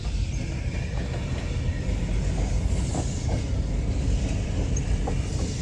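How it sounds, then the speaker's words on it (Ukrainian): A tram rumbles past on a street in Dnipro with a steady low roar and faint wheel clacks, continuous and fairly loud throughout. "Ось трамвай їде."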